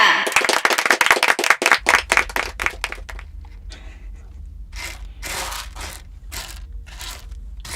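Rapid hand clapping from a small group, loud and close at first, then thinning into scattered bursts of claps over a low background rumble.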